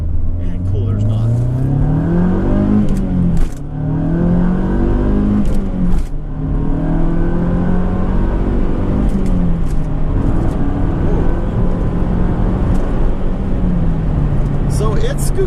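A Mazda Speed3 turbocharged hatchback engine revs up and shifts gears repeatedly from inside the cabin, pitch climbing and dropping with each gear, with road noise throughout.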